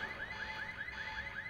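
A car alarm blares in the video game Quantum Break, its rising electronic siren repeating in steady cycles at moderate volume with no talk over it.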